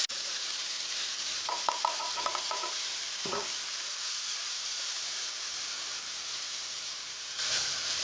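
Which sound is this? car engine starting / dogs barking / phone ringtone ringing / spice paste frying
spice paste frying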